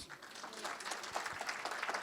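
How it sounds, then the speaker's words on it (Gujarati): An audience claps through a live Gujarati comedy show, a fairly faint, steady patter of applause that carries on throughout with a voice briefly heard over it. "તાળી પાડો તો વાંધો નહીં બોસ"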